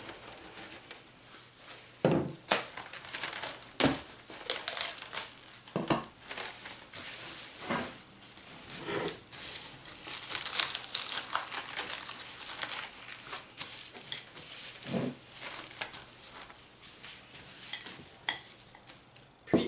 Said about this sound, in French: le recouvrir d'un papier film alimentaire